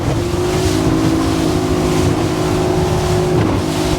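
A 1998 Grady White 208 motorboat planing at about 29 mph through choppy, whitecapped water, with a steady loud engine drone, hull slap and wind noise filling the recording.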